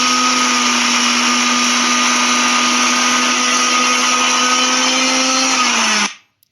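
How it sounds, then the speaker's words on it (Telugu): Kitchen mixer grinder blitzing dried red chillies into powder for tomato pickle, a loud steady motor whine that holds, dips slightly in pitch, then cuts off abruptly with a brief rattle. "మన దగ్గర ఉన్న ఎండుమిరపకాయలన్నీ ఇందులోకి చిన్న చిన్నగా యాడ్ చేసుకుంటూ ఇలా మొత్తం మిక్సీ"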